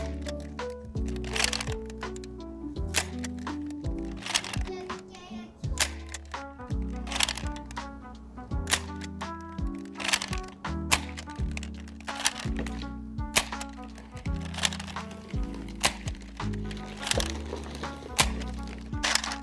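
A Buzzbee Thundershot hammer-action toy blaster, repeated sharp clacks and snaps of the mechanism being worked and fired, close and fairly quiet, in an irregular series across the whole stretch with handling noise between shots.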